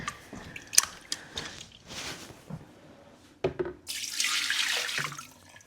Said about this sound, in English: let me do a dirty water pour so you can see it outside of this black container